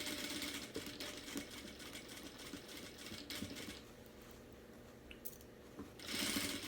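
A sewing machine stitching a seam on a fabric car trash bag, running in a quick steady whir with brief pauses and bursts, close and fairly quiet.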